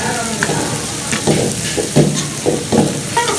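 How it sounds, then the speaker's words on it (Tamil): Mustard seeds and onions frying in hot oil, a dense close sizzle broken by a few spoon strokes stirring the pan. "எண்ணெய் ஊற்றி கடுகு போட்டு வெங்காயம் போட்டுருக்காங்க"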